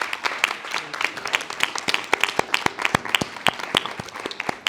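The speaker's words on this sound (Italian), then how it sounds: "Un altro applauso per cominciare." A studio audience claps steadily, sharp overlapping hand claps forming lively applause throughout.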